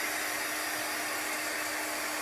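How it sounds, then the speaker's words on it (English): A small handheld heat gun blowing hot air during a craft project, a steady close whooshing fan hiss with no change and no voices. "This is a little heat gun."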